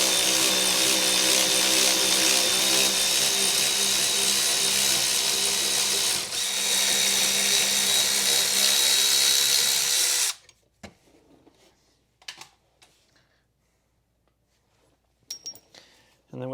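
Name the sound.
loosening 14 mm caliper bolt on Nissan X-Trail rear brake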